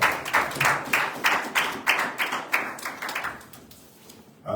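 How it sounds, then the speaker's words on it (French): A church congregation at a French-language worship service claps in rhythmic bursts, loud and near, a regular beat of many hands that thins out toward the end, with no talk over it. "Acclamons pour le Seigneur."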